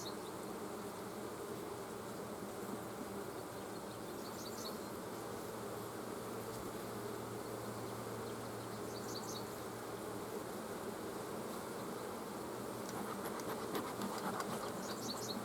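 A dense, steady hum of honeybees buzzing around an opened beehive fills the whole span at low volume, a continuous swarm drone with a few closer individual bees passing by and no talking.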